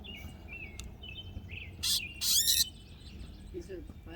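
A titmouse calling while being banded at a birding festival, giving short sharp chirps and a couple of louder, harsher scolding bursts, close by, against a low background hum.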